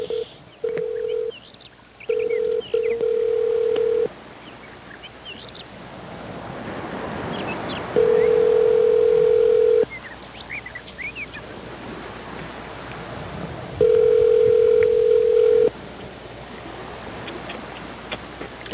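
A telephone call is placed: a quick burst of keypad dialing tones, then two long steady ringback tones separated by pauses, heard over a windy, surf-like outdoor rush.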